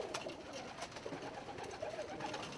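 Pigeons, colour breeds such as copper white wing red bar and gold white wing gold bar, coo softly at home with low, faint, repeated calls and no other sound.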